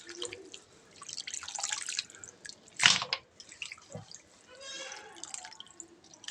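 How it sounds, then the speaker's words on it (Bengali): Freshly cut prawns are washed by hand in water, with quiet, close, intermittent splashes, drips and trickles. "এবার মাছগুলো আমি ধুয়ে ভালো করে উঠাবো।"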